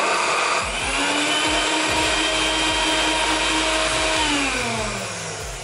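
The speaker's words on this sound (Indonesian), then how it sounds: "Oke, ini kita blender ya." A blender grinding spices for a base seasoning paste roars at full speed, steady and loud throughout, easing slightly toward the end.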